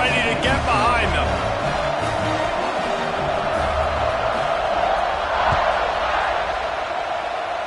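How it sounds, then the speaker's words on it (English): Crowd noise roars through a football stadium before kickoff, a broad sustained swell of cheering with a few sharp peaks, heard under a commentator's voice throughout. "They're set to kick it off, and this crowd now ready to get behind them."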